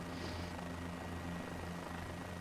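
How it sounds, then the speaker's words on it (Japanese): Helicopter in Microsoft Flight Simulator over the Nürburgring, a steady droning engine and rotor hum with a low tonal buzz, continuous and even for a couple of seconds with no talking. "ヘリコプターがやばいです。 失速しないように一生懸命今コントロールしてますけど"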